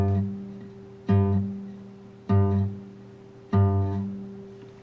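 An exaggerated, heavily damped acoustic guitar bass string, choked with the heel of the hand, plucked in three or four evenly spaced, thick thumps with no talking.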